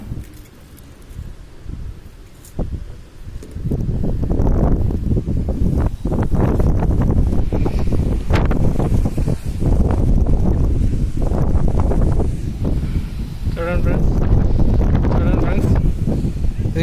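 Strong storm wind in Khammam buffets the microphone in heavy, gusting rumbles that build and stay loud, while someone talks over the roar.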